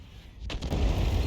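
A single heavy cannon shot from an AMX 13 F3 AM self-propelled gun in a video game, a sharp crack followed by a rising low rumble that swells and lingers near the end.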